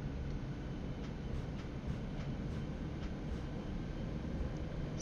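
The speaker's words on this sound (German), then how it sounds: "und fahren hier diesen Zug nach Aachen Hauptbahnhof." A train rumbles steadily in the Zusi 3 simulator game, on a 1979-era run from Übach-Palenberg to Aachen Hauptbahnhof. The low, continuous roll stays even throughout, with faint higher rattles and no talking.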